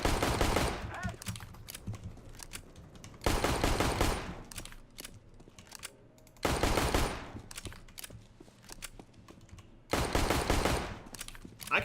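Video game gunfire fired with a Logitech G305 mouse: four loud bursts of rapid shots spaced a few seconds apart, with quieter game ambience and a voice talking between them.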